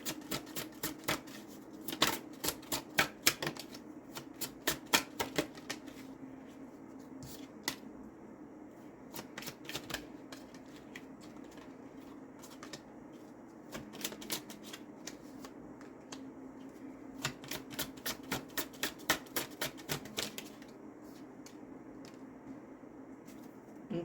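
A deck of cards shuffled over and over, a rapid fluttering riffle of crisp clicks in repeated bursts over a low steady room hum, close and fairly quiet.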